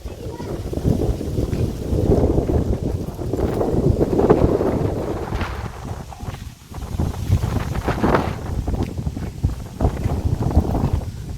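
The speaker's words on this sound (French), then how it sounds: "Il y a un sacrément de vent quand même." Gusty wind in Kyoto, Japan, buffets the microphone with a heavy, uneven low rumble that surges and drops over several seconds.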